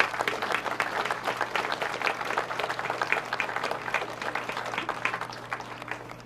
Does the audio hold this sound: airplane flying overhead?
no